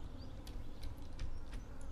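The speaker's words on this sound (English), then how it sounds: "I'm hearing the buzzing again and I don't see a butterfly" Insect buzzing in the Stardew Valley farm game, faint and steady over a quiet ambient background, with soft high chirps flickering through the short stretch.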